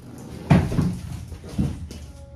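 Metal drawers on a tin drawer cart slide and knock as they are handled, two or three sharp clattering pulls and thumps, close and fairly loud.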